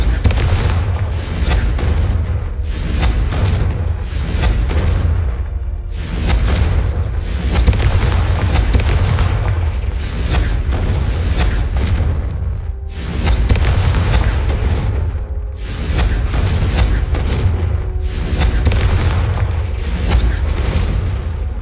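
Repeated Confringo spell explosions in the Hogwarts Legacy video game, a dense run of loud, booming blasts roughly every second or two over a continuous rumbling bed, with no speech.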